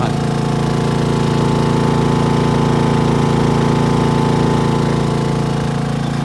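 New Honda EU2200i generator running on propane through a low pressure regulator kit, a loud steady hum with a constant droning tone, close by and unchanging throughout, with no speech.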